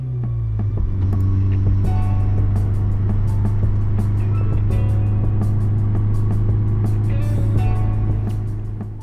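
Engine of a VW MK6 GTI fitted with an upgraded exhaust system, a loud, steady low drone close by that holds at constant revs for several seconds before easing off at the end.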